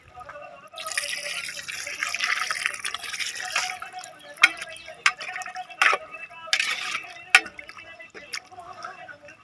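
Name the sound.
water poured into pot for chicken biryani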